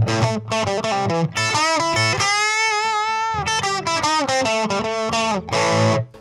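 An expensive electric guitar played through a cheap amplifier with heavy distortion, loud and continuous, with chugging chords and a sustained bent lead note in the middle, no talking.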